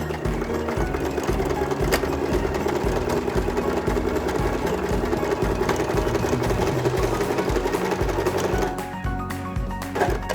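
A sewing machine runs steadily as it stitches a doll's seams, a continuous rapid mechanical chatter that stays loud and even before easing slightly near the end.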